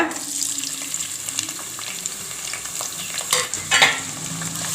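Sliced onions sauté in hot oil with cinnamon, cloves and star anise for tomato biryani, a close, continuous sizzle broken by a few louder scraping stirs near the end, with no talking.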